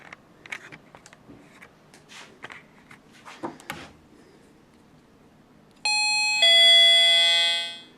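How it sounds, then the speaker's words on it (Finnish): A doorbell rings with two bright chimes near the end, following faint shuffling footsteps and light tapping sounds in a quiet room, with no talking. "Ovikello."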